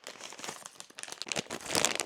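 Crinkly plastic packaging of a Fuggler toy rustles and crackles up close as it is torn open, the crumpling growing louder toward the end, with no talking.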